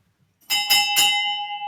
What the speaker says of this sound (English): Ringing that victory bell for you.